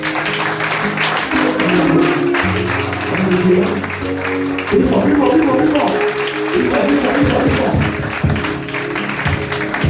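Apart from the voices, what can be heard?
applause for the president at a church service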